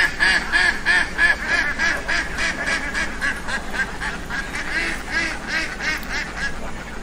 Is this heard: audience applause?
no